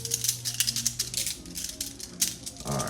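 Small word stones are shuffled by hand in quick clattering bursts, a close, irregular rattle and click with a low hum underneath, no talking.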